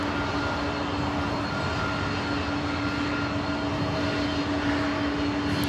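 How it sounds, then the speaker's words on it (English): Steady, continuous roar of a Polar Air Cargo DHL Boeing 747-8 jet airliner near LAX, heard at a distance with a faint constant hum through the whole stretch and no voices. "Here's a Polar Air Cargo DHL 747-8."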